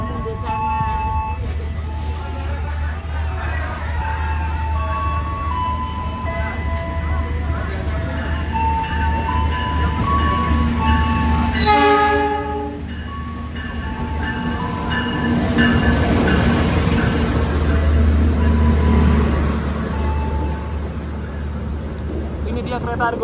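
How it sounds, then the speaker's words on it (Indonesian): The Argo Semeru train arrives on track 5 at Yogyakarta station with a heavy rolling rumble and wheel clatter, a horn blast sounding midway, over station announcements and nearby talk. "Kereta Argo Semeru masuk stasiun Yogyakarta jalur 5."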